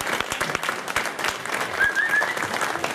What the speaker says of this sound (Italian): Facciamo un applauso a voi.